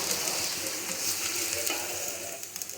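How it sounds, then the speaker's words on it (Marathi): Thalipeeth roasts on a pan, a dense, even hiss of frying close by with faint stirring clicks near the end, and no voices. "आता करून घेते थालीपीठं थोडंसं वेळ देऊन भाजायचं याला"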